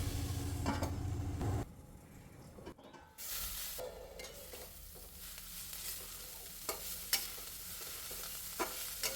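Bitter gourd thoran cooking in a covered pan, a soft hissing simmer with intermittent scrapes and knocks of a spoon stirring, plus a brief lid or pan clatter near the start.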